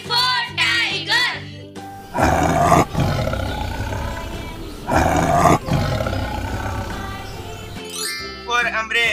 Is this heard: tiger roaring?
yes